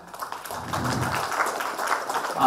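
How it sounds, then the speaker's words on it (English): Audience applause at a tech entrepreneurship event honouring sponsors, a broad steady patter of many hands clapping that swells and holds at moderate loudness with no voices over it. "A big round of applause for them."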